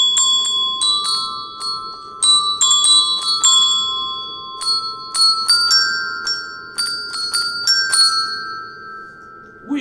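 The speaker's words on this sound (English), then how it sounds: "In our music class today, we have those beautiful ring bells here, okay? Those are our pitch bells." Pitch ring bells from a music class ring out a simple tune, Itsy Bitsy Spider, one bright struck note at a time in an uneven melodic rhythm, each tone sustaining and overlapping the next over a low steady background hiss.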